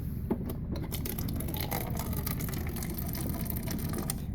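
A dehumidifier drain pump in a Jayco Northpoint 377 RV runs with a steady low mechanical hum and rattle, continuous and nearby, with faint clicks over it.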